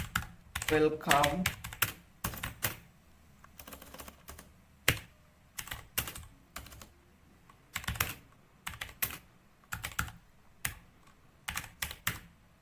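Typing on a computer keyboard while entering Python code: bursts of close, crisp key clicks in short irregular clusters, with a person speaking briefly near the start.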